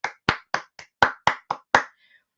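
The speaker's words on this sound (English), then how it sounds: "Will you all join me in giving them a big," Eight separate hand claps at a school event, sharp and close, evenly spaced with short silences between them, trailing off into quiet.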